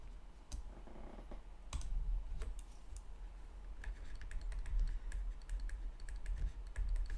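Key presses on a calculator while entering a sine calculation, a scatter of sharp, light clicks spaced irregularly over a low background hum, some taps quick in succession, fairly close and moderately quiet.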